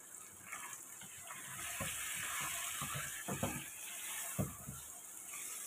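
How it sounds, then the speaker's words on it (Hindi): Onion, tomato and chicken stirred in a karahi, a soft sizzle and hiss running throughout with several scraping, clattering stirs of the spoon against the pan, fairly quiet and close. "हम इसे मिक्स करके मिलाकर और इस प्याज टमाटर को गलने के लिए रख देंगे"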